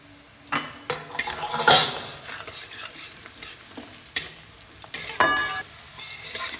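Whole garlic cloves, ground ginger and green chilies fry together in a pan while being stirred. Busy scraping and metallic clinks ride over a steady sizzle, close and moderately loud.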